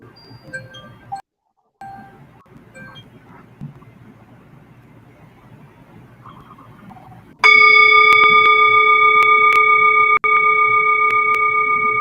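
A single bell strikes loudly and close, then rings on with a sustained, slowly decaying metallic tone after quiet room noise.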